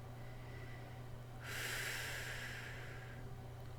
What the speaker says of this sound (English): relaxing the breathing.